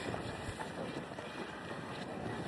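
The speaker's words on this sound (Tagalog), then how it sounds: "Mahampas yung hangin." Steady, rough wind in cold Georgia weather buffets the microphone with a constant roaring rush, loud and close, with no pauses throughout.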